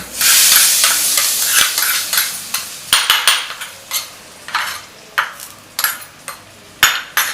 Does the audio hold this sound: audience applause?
no